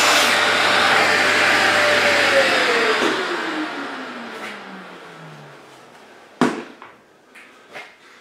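Festool OF 1010 router running along a guide rail through a kitchen worktop, a loud high whine that winds down with falling pitch, followed by a few sharp knocks and clatters at the end.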